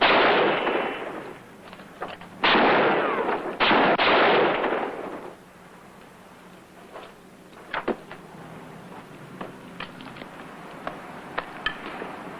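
Gunshots ring out in a tense standoff: a few loud, close blasts with long rumbling decay early on, then a string of sharper, quieter single cracks spaced out over the following seconds.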